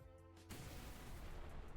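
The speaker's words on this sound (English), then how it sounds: "I just heard an explosion!" A loud explosion bursts out in a VRChat roleplay game after a brief quiet, followed by a sustained rumbling roar that holds steady to the end.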